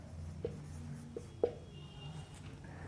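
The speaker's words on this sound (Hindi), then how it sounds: "यहाँ पे लिख रहे देखिएगा" Marker or chalk writing on a board during a Class 10 electricity lesson, a few short strokes and taps at close range, soft, with a quiet room hum behind.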